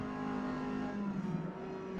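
A Datsun 510 in Forza Motorsport, racing at Suzuka, comes off the throttle; a steady, moderately quiet engine drone with a falling pitch runs throughout, with no talk.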